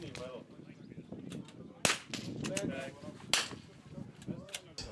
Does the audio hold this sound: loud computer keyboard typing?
no